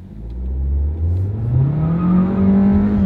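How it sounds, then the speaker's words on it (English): A modern Volkswagen with a small 1.4-litre turbo engine is floored with its wheels spinning, the engine note climbing steadily in pitch as it revs hard, loud and close. "You can hear those wheels spin."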